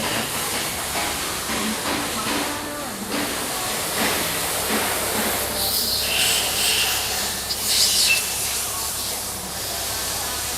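A loud, steady mechanical roar with hissing from an excavator's engine cooling fan spinning up close, continuous throughout with faint voices underneath.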